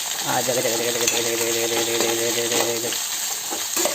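Sliced onions crackle and sizzle in hot oil as a slotted spoon stirs them around the pan. The steady, close frying has a sustained tone running through its first part.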